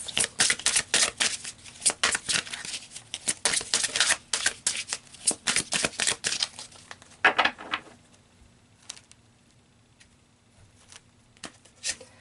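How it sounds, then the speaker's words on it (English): Surrender oracle cards are shuffled by hand in quick, crisp riffling bursts for about eight seconds, then the sound fades to a few scattered soft taps and card slides in a quiet room. "let's pull some surrender cards to get some advice"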